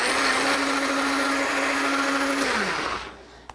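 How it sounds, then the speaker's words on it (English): NutriBullet-style blender whirring loudly as it blends a wet chia seed mixture, a steady high motor drone with a pitch dip near the end before it winds down and stops, followed by a small click. "you either use a blender or this is a NutriBullet, but definitely a blender of some sort, not a food processor"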